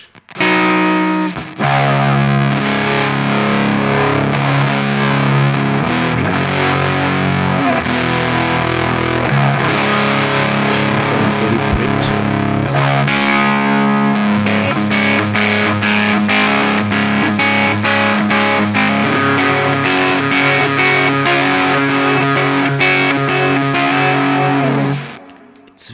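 An electric guitar is played through the Amplitube X-Drive Crush distortion effect, a thick, saturated and crunchy tone with sustained chords and riffs, loud and up close, running without talk.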